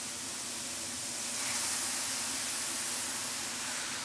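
Webfoot octopus hits a hot pan already holding scallion and garlic, setting off a steady, loud hiss of steam and sizzle that swells briefly and then holds, with no one speaking.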